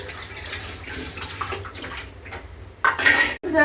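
Dishes washed in a kitchen sink under a running tap, with water splashing and intermittent clinks of pots and plates that grow louder near the end, and a voice speaking faintly in the background.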